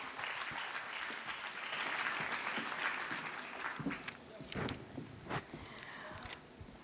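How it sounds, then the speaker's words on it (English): Audience applause at the YWCA of Bombay's 150th anniversary celebration, steady and full at first and then breaking into scattered individual claps as it winds down, with some voices under it. "a round of applause for Therese George"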